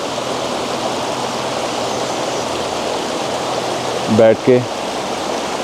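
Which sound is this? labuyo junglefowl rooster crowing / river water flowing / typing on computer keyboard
river water flowing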